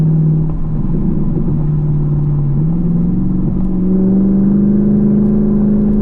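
A Chevrolet Camaro with an MRT off-road H-pipe exhaust cruises in fourth gear at 50 mph and 3,000 RPM, giving a steady, loud, low engine drone that rises slightly in pitch partway through, with no talking.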